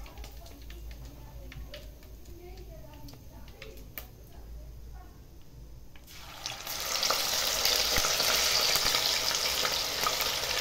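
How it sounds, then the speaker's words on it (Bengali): Chicken sautéing in a pan, Bengali style, with no egg: quiet kitchen ticks at first, then a loud, steady frying sizzle comes in about halfway and continues to the end. "এভাবে আমি সবগুলো চিকেন সতে ফ্রাই করে নেব।"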